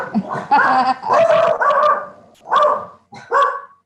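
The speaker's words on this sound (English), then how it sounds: "my dogs are so excited they're barking" Several dogs barking excitedly in repeated bursts, close by, with short yips between barks and brief pauses.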